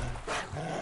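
A hostile dog in the video game Far Cry New Dawn gives a rough, close growl-bark, dense and loud with game ambience.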